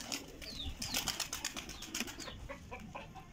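Pigeons flap their wings in a flurry of quick, papery beats nearby, with a few soft coos and flutters trailing off.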